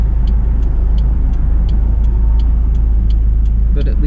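A stick-shift car engine drones loudly and steadily as the pedal bobs slightly, the revs gently rising and falling amid regular rattling clicks from a bouncing ride, with a brief voice near the end.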